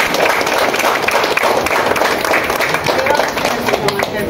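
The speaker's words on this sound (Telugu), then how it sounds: "అందరూ కూడా క్లాప్స్ కొట్టండి" Audience clapping at a birthday celebration, a steady crowd patter of many hands kept up at fairly loud level through the whole stretch, with faint voices mixed underneath.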